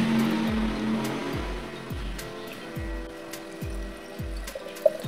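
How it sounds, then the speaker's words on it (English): Water pours into a row of glass bottles lined up to make music. A continuous close liquid trickle and splash runs with repeated low gurgling pulses. "then we are going to add the water"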